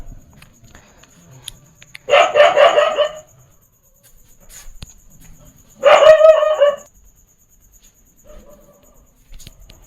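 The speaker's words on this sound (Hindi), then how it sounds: "थोड़ा इसमें कुत्ते बोल रहे हैं" Two separate loud dog barks ring out a few seconds apart, each a short rough volley, against an otherwise quiet background.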